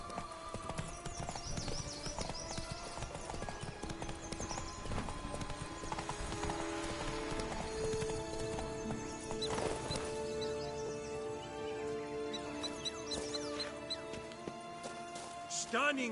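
Horse hooves clip-clop steadily throughout, close and fairly loud, with an occasional whinny and busy background sounds mixed in.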